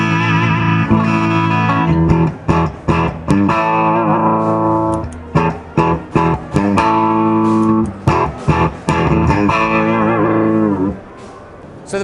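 Electric guitar played through an Ibanez Tubescreamer amp with its preamp distortion boost engaged, loud and saturated, with chugging chords and sustained notes broken by short muted stops and gaps.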